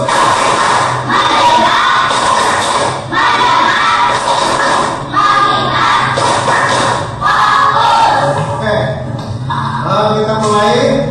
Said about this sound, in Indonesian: Sekali lagi, tepuk fokus.